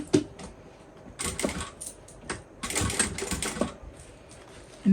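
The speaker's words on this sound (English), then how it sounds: "now we're going to top stitch this." Sewing machine top stitching a bowler bag, rapid mechanical whirring in short bursts with brief stops between runs, close and moderately loud.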